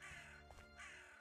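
A crow caws in a video game, two hoarse calls over a dense steady game ambience.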